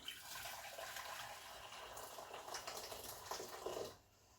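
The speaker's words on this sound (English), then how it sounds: "I'm going to put some water in the pan." Boiled water pours steadily from a kettle into a pan in a continuous splashing stream, then cuts off abruptly near the end, leaving quiet.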